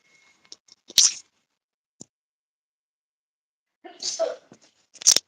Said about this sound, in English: Keep on sneezing.